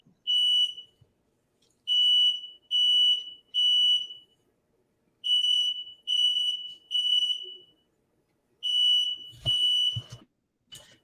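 A smoke alarm emits loud, piercing electronic beeps in repeated groups of three separated by short pauses, with a couple of dull knocks near the end.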